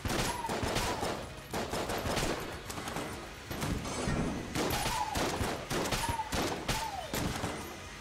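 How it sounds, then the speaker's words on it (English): Rapid volleys of cartoonish gunfire from a Winchester rifle in the video game Enter the Gungeon, loud and near, with dense repeated shots and a few rising chimes from other game effects, all without speech. "I like the fact that the Winchester fires a little bit faster"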